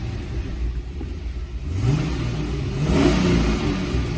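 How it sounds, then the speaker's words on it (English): A 2013 Camaro SS engine catches and revs, its low rumble swelling midway and holding steady at close range, with no talk over it. "key in the ignition, just like this, and start the car"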